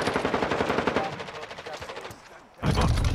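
Rapid automatic gunfire in the video game Warzone 2, a dense close burst that drops off briefly and then resumes loudly at the end.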